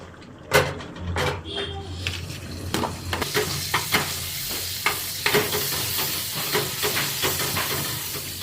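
Butter sizzles in a pan for a kadai chicken dish, a steady frying hiss broken by sharp clanks and scrapes of stirring, with a voice talking over it.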